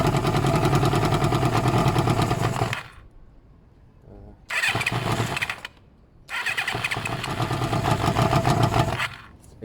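Kawasaki ZL600 Eliminator motorcycle after carburetor work, its engine running loud and close, cutting out briefly, catching again, dying once more, then restarting into a steady, buzzing idle.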